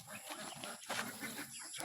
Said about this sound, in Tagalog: Itong isa ito mga manok.